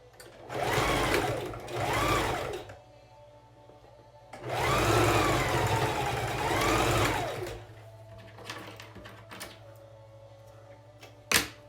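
A sewing machine stitches along the edge of a fabric face mask strap in two short runs separated by a pause, close and clear, with a low hum between bursts.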